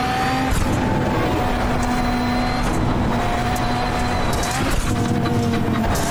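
A VW Beetle Lite slides sideways through a drift at Daytona rallycross in iRacing, the engine holding a steady droning pitch with tyre and gravel noise, loud and continuous throughout.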